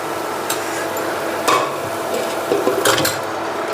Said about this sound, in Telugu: కలుపుకుందాం ఇప్పుడైతే చికెన్ వేసుకుందామండి